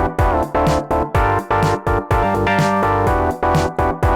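Deep synth bass from a chord built with Ableton's Chord Tool, dropped an octave lower, loud pumping notes in a steady rhythm of about two per second over a dense harmonic bed, with no voices.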